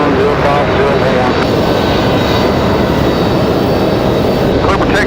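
A jet airliner takes off at Raleigh-Durham airport, filling the air with a loud, steady, broadband engine roar throughout. A radio voice is heard faintly beneath the noise.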